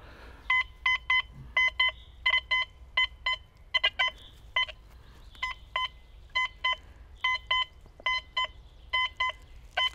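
A Quest X10 IDmaxX metal detector sounds over a large Catherine II five-kopeck imperial copper coin, giving repeated short electronic beep bursts in an irregular rhythm, clear and close against a faint low hum.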